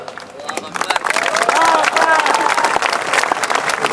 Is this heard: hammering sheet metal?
no